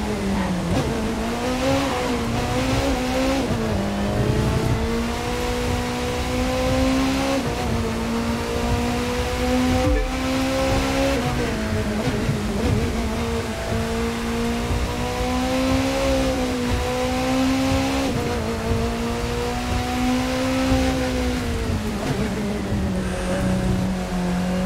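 Mercedes-Benz 300 SLR racing in The Crew 2, a loud sustained engine note rising and falling through gear changes, continuous and close with no talk.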